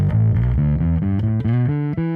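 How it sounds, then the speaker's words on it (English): An electric bass through an SVT amp model with overdrive added plays a steady line of notes with a gritty, distorted edge, loud and close. "Okay, let's add some drive."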